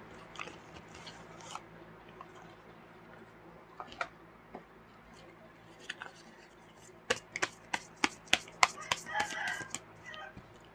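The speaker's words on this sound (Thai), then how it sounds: "มาพร้อมกับเสียงน้องไก่นะคะไก่ขันยามเช้านะคะ" Rooster crowing at morning, heard at a distance among scattered sharp clicks and crunchy bites that grow denser near the end, over a steady low hum.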